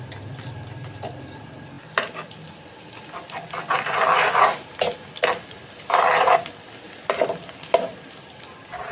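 Chopped small onions sizzle and fry in ghee for a chana dal tadka, stirred now and then, with bursts of louder crackling and spatula scraping over a steady close hiss.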